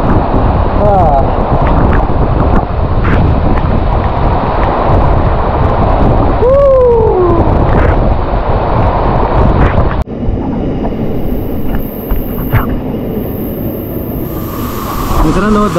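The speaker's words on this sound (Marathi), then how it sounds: "इथे हा वॉटरफॉल आहे इतका छान" Steady, loud roar of the hidden Khalaswal waterfall at Munde wadi near Karjat, a broad rushing wash of falling water that fills the whole span close by, with faint voices mixed in.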